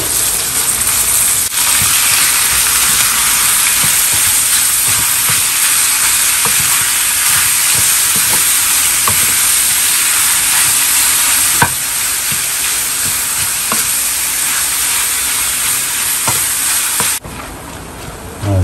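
Marinated beef frying in a pan with garlic, a loud, continuous sizzle with occasional scrapes and clicks from stirring, steady throughout, no voices.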